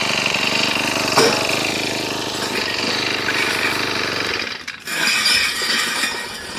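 A Mantis 7940 tiller engine runs steadily and fairly loud, a dense mechanical drone that dips briefly near the end before resuming.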